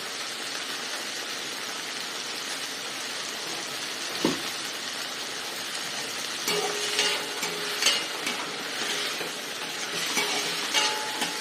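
Vegetables for pongal sambar are being sautéed with salt in a pan. A steady broadband sizzle holds throughout, and faint scrapes of stirring join it in the second half.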